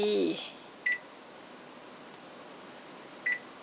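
An oven timer is set for 15 minutes while baking pizza: two short, clear electronic beeps spaced a few seconds apart in a quiet room, preceded by a brief burst of noise.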